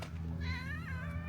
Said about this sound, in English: Lots of cats on Phi Phi.